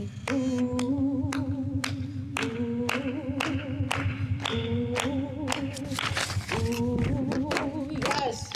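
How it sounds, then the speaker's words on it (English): Audience members clap along in a steady rhythm at a performance at Cranbrook Art Museum, the sharp regular claps running the whole time beneath a sustained sung vocal line. "Clap with me."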